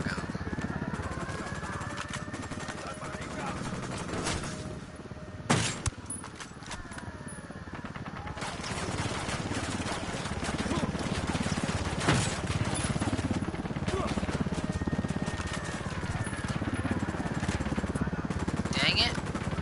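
Gunfire from the video game Ghost Recon, a dense crackle of shots running steadily under near, continuous talking, with one sharper burst standing out midway.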